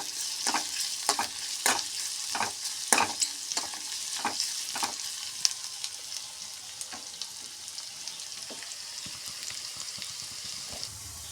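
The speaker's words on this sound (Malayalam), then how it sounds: "ചുവന്നുള്ളിയൊക്കെ നന്നായി മൂത്ത് വന്നിട്ടുണ്ട്" Shallots frying in hot oil until browned for a Kerala-style dish, a steady close sizzle with crackling pops and a few stirring scrapes early on, no voices.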